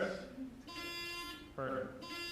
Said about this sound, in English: can you test your buzzer?